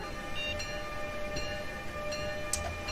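Acela train in Train Simulator 2019 rolling along in a steady, continuous rumble with a mechanical hum, faint clanks and one brief high chirp near the end, no voices.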